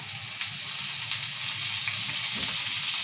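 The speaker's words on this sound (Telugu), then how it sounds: "కొద్దిగా ఆయిల్ వేసుకుంది నెక్స్ట్ ఇక ఈ ఉల్లిపాయలు వేసుకున్నాం" Steady sizzling of onions frying in hot oil, constant and close, with faint occasional stirring scrapes and no voices.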